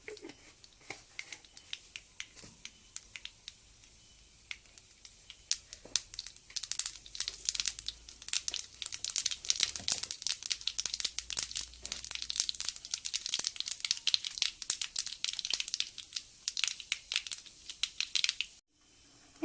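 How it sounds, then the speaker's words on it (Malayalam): Mustard seeds crackling and popping in a tablespoon of hot coconut oil for a coconut chutney tempering, a dense rapid patter of sharp pops building and staying steady, close and fairly loud, with no talk. "അതിലേക്ക് കുറച്ച് കടുക് ഇട്ട് കൊടുക്കാം."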